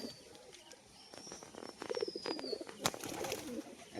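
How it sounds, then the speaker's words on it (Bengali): A white-green female pigeon coos in low, rolling bursts, moderately close, with faint chirps and brief rustling in the background. "সাদা সবুজ মাদি পায়রা"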